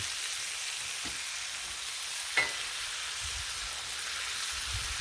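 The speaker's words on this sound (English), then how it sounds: "this is where the bacon spatter comes in" Bacon frying on a flat-top griddle gives a steady, quiet sizzle, broken by a couple of sharp spatter pops near the start.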